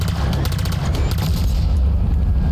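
A silo blows up in the video game Halo Infinite, a loud sustained rumbling boom with dense low-end roar that slowly fades.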